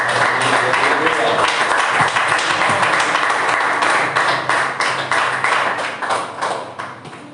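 A church congregation claps steadily in praise during a worship service, a dense continuous wash of hand claps filling the room, with a voice speaking over it and the applause thinning slightly toward the end.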